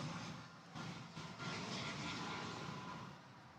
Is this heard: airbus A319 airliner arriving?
yes